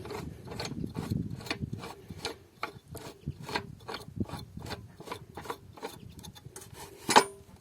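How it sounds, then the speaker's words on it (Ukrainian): A Yato YT-82170 saw rasps through a clamped wooden strip in quick, rhythmic back-and-forth strokes, close up, ending with a brief louder scrape. "Зажмемо струбциною планку і зробимо вріз."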